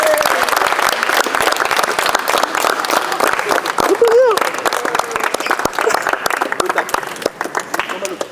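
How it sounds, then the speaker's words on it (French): Basketball players applauding themselves after an intense training week, a dense burst of group clapping close by with voices and cheers mixed in throughout. "Déjà, on peut s'applaudir."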